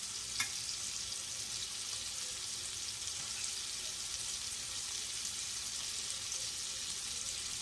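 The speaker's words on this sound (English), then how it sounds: "And we're going to cook it for a few minutes on each side." A ribeye steak sears in a cast iron pan with a steady, dense sizzle that holds at an even level throughout, with no talking.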